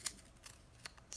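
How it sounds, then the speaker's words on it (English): A pencil is sharpened while drawing, giving a few faint, quick scraping strokes spaced apart, close and quiet with no talk. "Let me sharpen. It's good to always sharpen your pencil"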